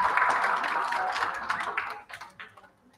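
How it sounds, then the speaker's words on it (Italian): An audience at a children's science talk about dinosaurs and fossils applauds with dense, steady clapping for about two seconds, then it thins into a few scattered claps and fades out. "Applauso per il balletto"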